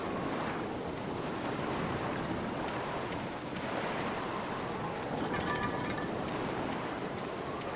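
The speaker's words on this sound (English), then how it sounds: "It's at least 50 feet down, given the reverberation of the waves" Waves break steadily at the foot of a tall cliff, a continuous roaring wash of surf that heaves and recedes in slow surges, distant and reverberant, with no voices.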